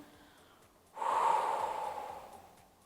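A single deep breath during a Pilates exercise, a soft, close exhale that swells after a quiet start and slowly fades away.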